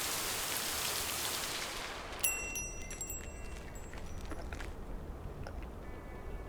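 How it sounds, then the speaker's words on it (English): Heavy rain pours steadily in the video game Lake, a dense continuous hiss with faint clicks and tones layered over it near the middle. "Rain got heavier now."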